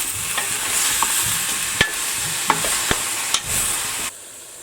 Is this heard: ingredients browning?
yes